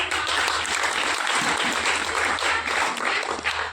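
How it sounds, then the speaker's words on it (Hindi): Loud, sustained applause from a large crowd at an Independence Day event, steady clapping filling the whole stretch without a break. "आपके लिए जोरदार तालियां हैं"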